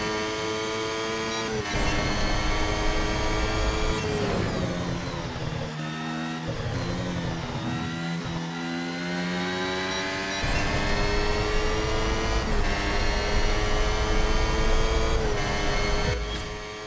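A Formula 1 car engine screams through a lap in a mobile racing game, a loud sustained high-pitched whine rising and falling as it shifts through gears and brakes for corners, with no talking.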